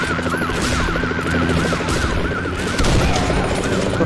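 Loud, dense gunfire in the horror game Condemned: Criminal Origins, a continuous burst of shotgun-like blasts layered with a sweeping siren-like tone and game noise, filling the whole moment without pause.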